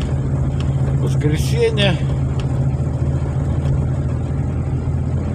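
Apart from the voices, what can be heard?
car driving past on a village road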